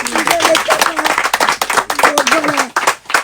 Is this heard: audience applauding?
yes